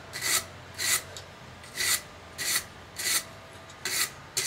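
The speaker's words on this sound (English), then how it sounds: "and then take your brush to it" A stiff brush scrubs forge-welded metal clean in rhythmic strokes, seven bright rasping bursts about every half second to second, close and moderately loud with no talk.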